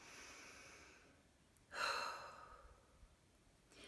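A single slow, deep breath drawn in and let out near the listener, a soft airy rush that swells briefly and fades, with faint breathing noise around it.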